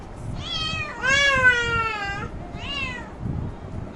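A cat gives three clear meows close by indoors, the middle one long and drawn out, with only light room noise and no talking.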